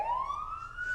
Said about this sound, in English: turn the siren wide open